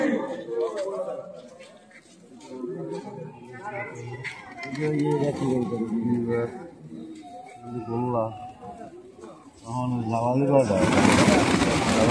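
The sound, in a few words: Jalali pigeons at Shahjalal shrine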